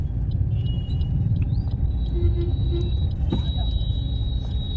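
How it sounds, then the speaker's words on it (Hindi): A car pulls away on a road after the clutch is released with light acceleration, a steady low engine rumble heard from inside the cabin, continuous and even, with faint incidental sounds. "यहाँ पर क्लच को छोड़ा और क्लच को छोड़ने के बाद हल्का सा एक्सीलेटर लिया"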